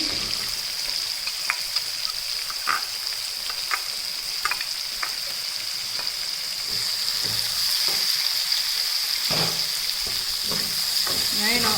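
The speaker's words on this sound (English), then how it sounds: "now let onion cook" Chopped onion frying in a pan, a steady broadband sizzle with occasional scrapes and stirring clicks, growing slightly louder toward the end, with no voices.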